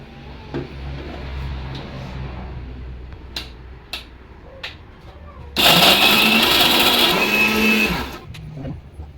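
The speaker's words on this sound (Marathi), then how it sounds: "मिक्सरच्या भांड्यामध्ये सगळं एकत्र करून याची पेस्ट बनवायची" An electric mixer grinder blending a whole-spice paste of shahjeera, cinnamon, green chillies and green cardamom for chicken biryani, starting up loud and whirring steadily for a few seconds after quieter kitchen clatter, then cutting off.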